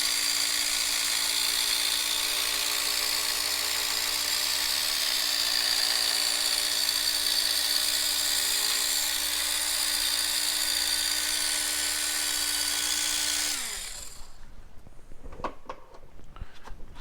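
Rotary polisher running steadily on the paint of a 2018 Ford Raptor during paint correction, a loud, continuous high-pitched whine for about thirteen seconds that abruptly cuts off, leaving faint handling noises.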